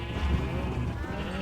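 Sheep in a video game bleat steadily, a loud, close, continuous wavering cry that fills the moment with no talk over it.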